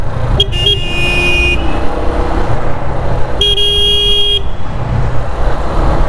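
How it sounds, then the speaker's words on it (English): Two long car horn blasts sound a couple of seconds apart, each about a second long, loud over rumbling engine and road noise in Cairo traffic. "Gonna honk at me like that, I'll honk right back."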